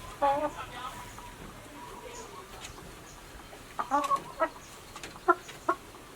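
Laying hens in a backyard coop built from old salvaged materials give short, scattered clucks, quiet and somewhat distant, in a few brief bursts over a soft background hiss.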